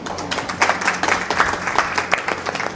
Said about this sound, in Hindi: ताली बजाई उन्होंने जैसे आपने बजाई